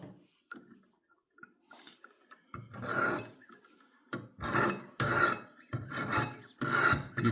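Ceramic stones on a Wicked Edge WE60 sharpener rasp along a butter knife blade, a few quiet scrapes followed by a run of loud, rhythmic back-and-forth strokes close up.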